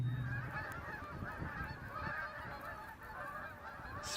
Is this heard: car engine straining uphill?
no